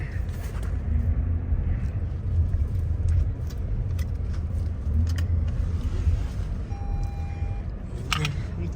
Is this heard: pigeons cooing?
no